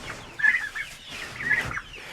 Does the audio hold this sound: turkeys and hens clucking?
yes